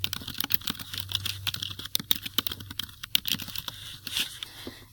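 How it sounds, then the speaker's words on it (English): Quick, irregular keystrokes rattle on a computer keyboard, close and fairly quiet, with bursts of clicks and short pauses in between. "we'll type it again"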